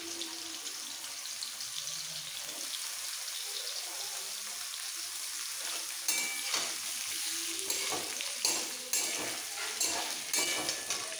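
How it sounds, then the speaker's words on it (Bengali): Potato and cauliflower pieces frying in mustard oil for a fish and vegetable curry, a constant hissing sizzle that grows busier, with repeated spatula scrapes and clacks in the second half and no voices. "এইবার এই তেলের মধ্যে আলু আর ফুলকপি আগে দিয়ে দেবো।"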